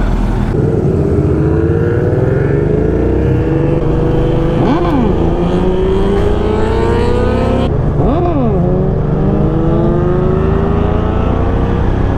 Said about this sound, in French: Ah c'est un Black Widow son pot.